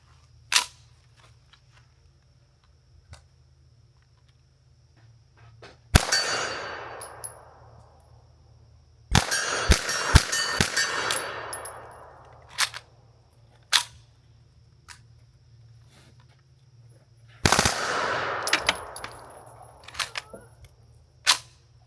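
Suppressed gunshots fired through a C4 Armory BBC (Bigger Blast Chamber) silencer, a few sharp cracks spread apart with a quick cluster in the middle, each followed by a short decaying rumble, outdoors with a steady low hum underneath.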